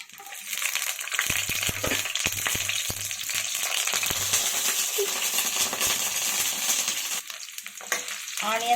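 Onions frying in two spoons of oil for a gongura mutton dish, giving a steady broadband sizzle throughout with repeated clinks and scrapes of a spoon stirring the pan.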